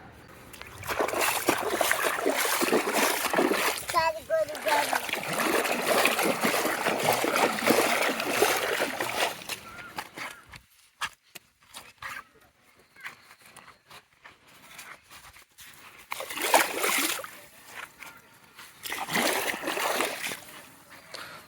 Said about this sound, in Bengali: এখন পা ধুইতে হবে।